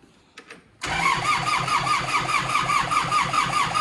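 A Kubota engine cranks briefly, then catches and settles into a steady, chugging idle close by, loud and even after a short quiet start.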